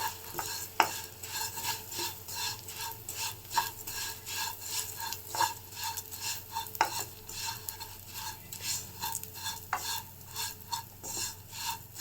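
Vermicelli frying in oil on a low flame while being stirred, producing a quiet, rhythmic scraping and rustling against the pan with a faint sizzle underneath and no speech.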